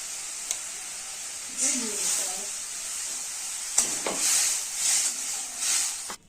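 Water splashes into a hot pan of egg curry and batter and sets off a bright hiss and sizzle that swells in bursts. Crackling frying continues underneath, with no voices over it.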